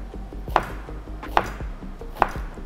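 A chef's knife slices an onion very thin on a cutting board, giving three crisp, evenly spaced chops close up against a quiet kitchen background, with no talking.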